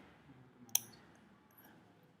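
A single crisp mouse click, faint and sharp, sounds once against a quiet room while a web dashboard is being used.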